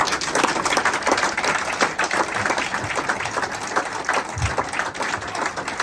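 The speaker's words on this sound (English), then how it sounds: "Ladies and gentlemen, a big round of applause again for Mr. Joe Defino." Audience applause for award recipient Joe Defino at the IPWHF Medal of Mettle Award Ceremony, a dense, steady round of clapping from a crowd that holds at full strength throughout.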